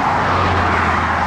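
Traffic roaring steadily on a rural road in Macario Gómez, Mexico, with a loud, close, continuous broadband rush of vehicles driving past at speed and no talk.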